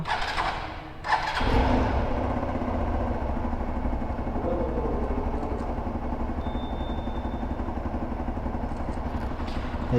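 A Hero Xpulse 200 4V motorcycle engine catches after a brief clattering crank, then settles into a steady, loud rumbling idle that runs on close by for the rest of the stretch.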